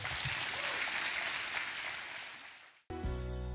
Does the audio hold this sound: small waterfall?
no